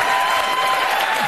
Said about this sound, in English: the canned applause from the stupid audience.